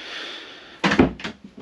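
A soft-close kitchen drawer in a 2023 Swift Elegance 845 motorhome glides and settles shut, with a faint hiss followed by a few soft, close knocks as it closes.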